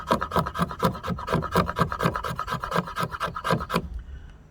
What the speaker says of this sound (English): Let's see how well it'll scrape some fat wood.